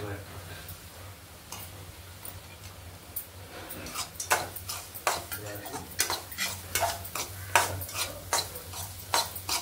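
Chopped dry fruits being stirred into mango shira in a pan, with repeated scraping and tapping strokes of a spoon against the pan over a low hum, getting busier toward the end.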